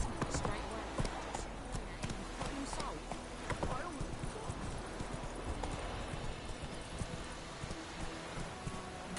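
In The Witcher video game, the horse Roach's hooves clip-clop in a rapid running rhythm, close and continuous, with a snort or whinny and game dialogue voices mixed in.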